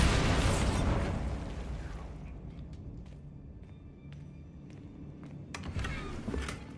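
A Bombarda spell blast in Hogwarts Legacy erupts as a loud, broad boom that slowly rumbles away, followed a few seconds later by a second, sharper burst.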